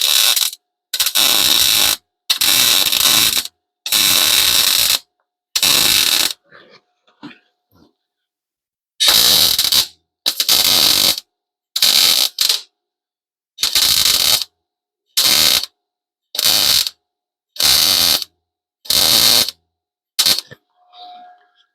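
Bursts of welding on an old rusty car patch panel, about a dozen sharp crackling stick-outs each a second or so long, separated by short silent pauses, close and loud.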